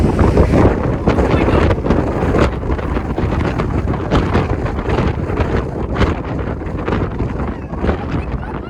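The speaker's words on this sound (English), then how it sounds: "we've got another jet blast experience" Roaring jet blast from a plane at Maho Beach, St. Maarten, a loud, gusty rush of wind battering the microphone nonstop, strongest at the start and easing slightly toward the end.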